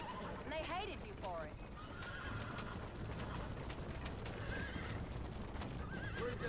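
Horses pulling a loaded wagon in Red Dead Redemption whinny several times over a steady clip-clop of hooves and rolling wheels, with someone talking over them.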